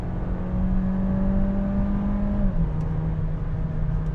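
An Audi A3 Sportback 35 TFSI Black Edition engine heard from inside the car, a steady droning hum that holds its pitch, then drops at a gear change around midway and carries on lower.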